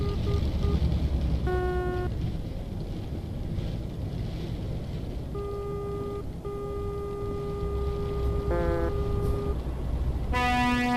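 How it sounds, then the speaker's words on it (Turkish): A truck horn in the driving game Euro Truck Simulator 2 sounds several times: short toots, then one long sustained blast and a final honk, all over steady engine and wind rumble with no talk. "o nasıl korna lan öyle?"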